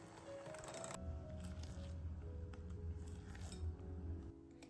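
Eggs being whisked into a nut cookie dough mixture with a blender produce a steady low motor hum and soft squishing, with faint clinks from the bowl, at close range.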